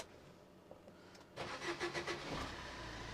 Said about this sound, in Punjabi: ਮੈਂ ਤੁਹਾਨੂੰ ਗੱਡੀ ਸਟਾਰਟ ਕਰਕੇ ਵੀ ਦਿਖਾ ਦਿੰਦਾ